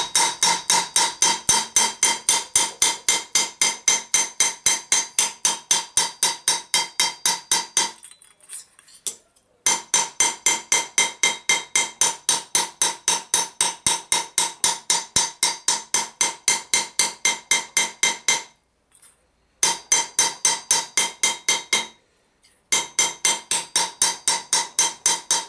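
A hammer planishes a curved metal gothic gauntlet wrist plate in fast, even, ringing taps, many blows in long runs separated by a few short pauses, close and alone.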